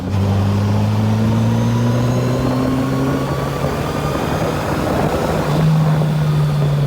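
A Yamaha FJR1300 motorcycle with a modified exhaust revs steadily at about 3,000 RPM, then climbs toward 5,000, giving a loud, continuous engine drone that rises slightly in pitch near the end.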